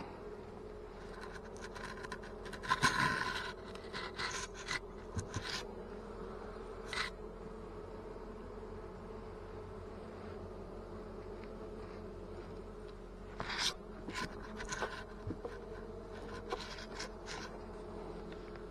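Carniolan honey bees buzz in an opened hive during spring build-up, a soft continuous hum close by with occasional scraping and knocking from the frames.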